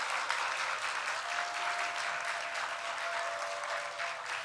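Congregation applauding in a church during a Sunday service after a kindergarten graduation certificate presentation, a dense, steady wash of many hands clapping throughout, fairly distant and even in level.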